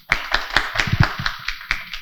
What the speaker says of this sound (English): Let's give him another round of applause, please.